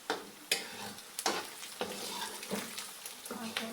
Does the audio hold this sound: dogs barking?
no